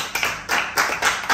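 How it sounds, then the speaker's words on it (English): A small group claps in short bursts during an interview with members of a dance crew, with several distinct rhythmic pulses of handclaps close by and no talk over them. "he deserves a round of applause"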